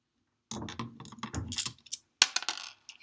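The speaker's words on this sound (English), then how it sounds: "Get these screws out of there." Screws being backed out of a DeWalt 625 router during disassembly, heard as close, dry metallic clicks and small ratcheting scrapes in irregular bursts, with a few sharper clinks near the end and no talking.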